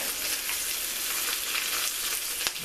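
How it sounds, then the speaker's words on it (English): Fatty slab bacon fries in a pot, a dense, even crackling sizzle that stays close and steady, with one brief knock near the end and no voices. "It's just cooking out the bacon until it's crispy"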